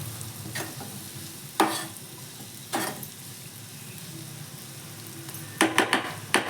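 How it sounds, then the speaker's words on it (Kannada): Cabbage and other vegetables fry in a pan with a soft steady sizzle, broken by a few scraping stirs and a quick cluster of spoon clatters near the end, close and without talking. "ಮತ್ತು ಕ್ಯಾಬೇಜ್ ಇದನ್ನೆಲ್ಲ ಸ್ವಲ್ಪ ಹೊತ್ತು ಹುರ್ಕೊಳ್ಳಿ."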